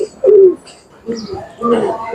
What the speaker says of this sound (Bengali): কিছু কবুতর বসে আছে কিছু কবুতর করে উঠতেছে